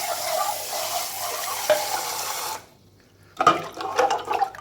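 Coffee cups are rinsed under running water, with close splashing and clinking that stops abruptly into near silence, then returns as sloshing and knocking of the cups.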